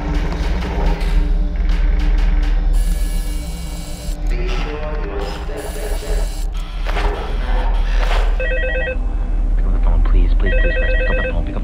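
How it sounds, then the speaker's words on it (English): A telephone rings with an incoming call: two short bursts of electronic ringing late in the clip, over a loud, busy background of music and talking voices. "Fritz gets a frantic phone call from Jeremy."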